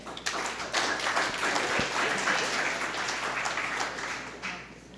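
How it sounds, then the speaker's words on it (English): Round of applause from a modest audience at a technical paper talk, moderately loud and somewhat distant clapping with a few knocks and taps, holding steady then easing off. "let's give it a round of applause for Sargun."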